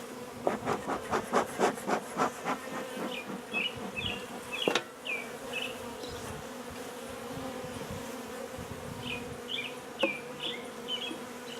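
A steady buzz of honey bees around an opened hive fills the air, with a cluster of sharp rhythmic scraping sounds early on and some faint chirps in the background.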